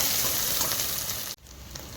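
Onions and green chillies sizzle loudly in hot oil and ghee with biryani spices for a pulav, a steady close frying hiss that drops off abruptly, then continues more softly.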